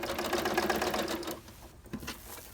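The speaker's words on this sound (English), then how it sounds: "I'm going to start and back stitch and go all the way around, rotating both pieces of fabric as I go." Sewing machine back stitching around two fabric pieces of an oven mitt, a steady close mechanical whir for over a second, then stopping into quieter handling and a few faint clicks.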